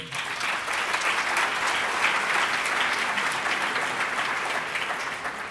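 Loud, dense audience applause at a cultural event, sustained evenly from start to finish with no talking over it.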